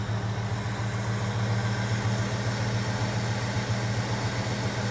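A Ford LTD with a 302 V8 and a loud aftermarket exhaust idles, giving a steady, low, rumbly drone that stays even and uninterrupted.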